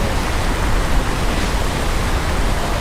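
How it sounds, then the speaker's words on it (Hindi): Powerful waterfall in a valley in Arunachal Pradesh, northeast India, roaring as a dense, steady wash of noise heard up close, with no voices. "यहाँ पर खड़े होकर इस वाटरफॉल की जो आवाज़ आ रही है वो इतनी तेज़ आ रही है"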